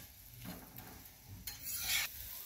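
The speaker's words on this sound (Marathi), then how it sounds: "बघा छान असे शेकले पोळी आपली, दोन्ही बाजूनं फिरवून फिरवून शेकायची।" Oiled flatbread (poli) roasting on a hot pan, giving a soft intermittent sizzle with bursts of scraping and turning, the loudest stretch near the end before it settles back to a low hiss.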